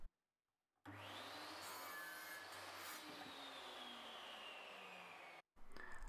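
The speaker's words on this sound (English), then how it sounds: "I then get the stop set up on the mitre saw and start cutting the 45s to make the frame" A mitre saw spins up and cuts a 45-degree mitre through wood for a picture frame, a loud steady whine lasting several seconds, then stopping abruptly before the motor starts again, close with no talk.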